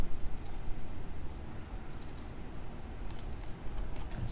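Quiet, steady typing on a computer keyboard, with soft, rapid keystrokes and a few sharper clicks scattered through a short stretch.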